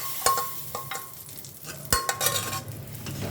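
Spice paste with green chilli is mashed and mixed, giving a few quiet, sharp scraping and clacking strokes at an uneven rhythm.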